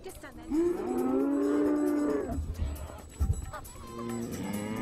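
Cattle low in a long, clear moo lasting about two seconds, then quieter rustling and a brief second call start, close and prominent with no talking.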